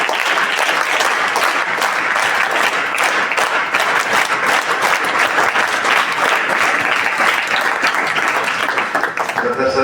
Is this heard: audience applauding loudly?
yes